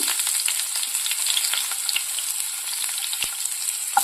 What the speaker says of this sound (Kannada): ಅರ್ಧ ಈರುಳ್ಳಿ ಹಾಕ್ಕೊಂಡು ಸ್ವಲ್ಪ ಹುರ್ಕೊಳ್ಬೇಕು